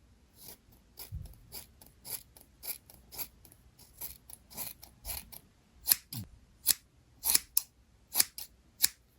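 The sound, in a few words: scissors trimming a Bratz doll's hair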